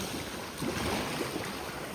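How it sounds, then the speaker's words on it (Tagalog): Sea waves at high tide off Jomalig Island make a continuous broad roar and wash, with gusting wind buffeting the microphone throughout. "Nanggagalit yung alon. High tide."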